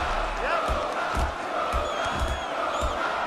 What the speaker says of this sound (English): The crowd showing their support for Mirko Cro.